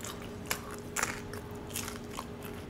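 Crunchy bites and chewing of fried food during a pizza-nacho mukbang, a few sharp close crunches spaced through a quiet, moist chewing background.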